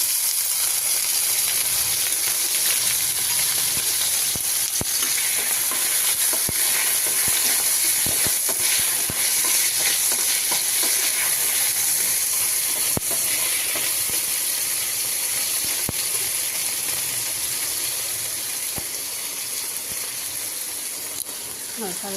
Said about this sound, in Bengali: আলুটা দিয়ে দেব ভাজার জন্য।